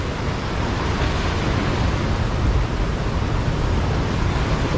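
Waves wash onto Kalimirah beach in Wonogiri, a shore lined with coral rocks. A continuous, close hiss of surf mixes with wind noise and holds a steady level throughout.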